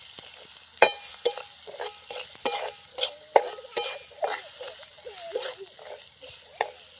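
Onion sautéed with homemade masala, salt and turmeric powder is stirred in a pan for a tomato chutney, giving a run of sharp spoon scrapes and clacks over a soft steady sizzle, with no talking.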